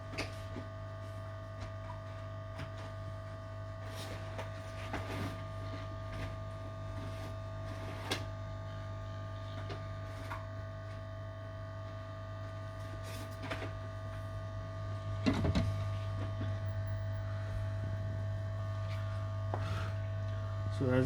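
A heating tool, likely a hot-air rework station, warms a Samsung Galaxy S8 charging port during repair, giving a steady hum and whir with faint clicks throughout and a slightly louder stretch near the end.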